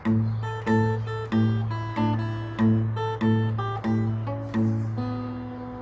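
Guitar playing a song: a steady alternating bass pulse under picked treble notes, a clear, close, repeating blues pattern of about eight even strums with no talk.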